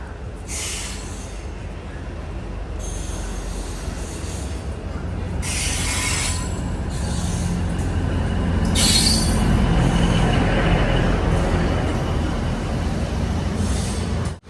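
A DEMU train pulls out of Nagore station on a single-line route toward Karaikal. High-pitched wheel squeals come and go in bursts over a deep rumble that grows louder as it gathers pace.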